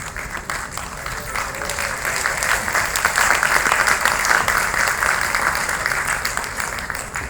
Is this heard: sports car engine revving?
no